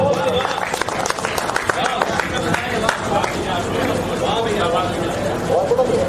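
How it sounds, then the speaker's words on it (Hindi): Audience applause at a Hindi poetry gathering (kavi sammelan), dense sustained clapping mixed with crowd chatter and voices throughout. "एक बार जोरदार तालियां बजाएं।"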